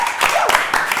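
Several hands clap briefly and loudly at close range, mixed with voices chattering over the quick burst of applause.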